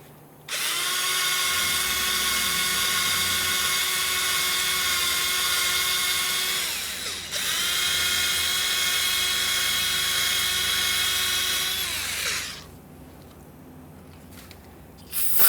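A bore brush spins inside the caliper slider mounting ports of a 2007-2017 Jeep Wrangler rear brake, giving a loud, high motorized whine in two long runs with a short dip between them, then winding down.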